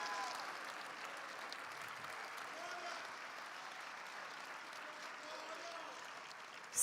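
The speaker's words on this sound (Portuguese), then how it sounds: "Aplauda aquele que vive." A church congregation applauding, a dense, steady wash of clapping from a large crowd that holds at even strength for several seconds, with a brief loud knock at the very end.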